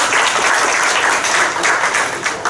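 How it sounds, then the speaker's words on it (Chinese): An audience at a startup pitch forum claps together in a dense, even burst of applause that holds steady from start to finish, close and fairly loud, with no voices over it. "好，来点掌声吧"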